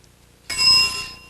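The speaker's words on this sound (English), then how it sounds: "Describe it when you hear the bell." A single bright bell rings out sharply after a quiet moment and sustains with a clear metallic tone, loud and close, in a game show setting.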